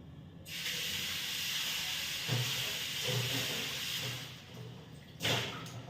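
Pressure cooker boiling potatoes on a home kitchen stove, giving off a continuous loud hiss of escaping steam, close by, with a faint low bubbling underneath and a sharper surge near the end.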